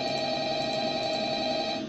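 A telephone rings in the Five Nights at Freddy's video game, a continuous electronic tone with faint, repeated high chirps layered on top, loud and unbroken throughout.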